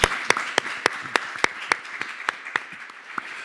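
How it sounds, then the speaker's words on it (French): Sparse, evenly spaced claps ring out for the mayor of Saint-Berthevin at a civic event in Laval, a few distinct hand claps in a steady rhythm rather than a full crowd. "Applaudissements pour Yannick Borne."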